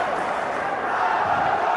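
A packed indoor futsal arena crowd during a Premier Futsal season 2 match roars and cheers, a loud, dense, unbroken wall of voices for the whole short stretch.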